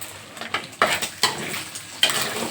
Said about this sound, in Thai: ผัดไท่ให้มันสุกค่ะ